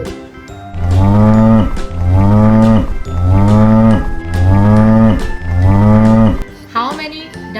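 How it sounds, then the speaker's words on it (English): Five long, deep cow moos in a row, each a loud drawn-out low bellow with short gaps between them, close and clear. "Now tell me the sound of cow."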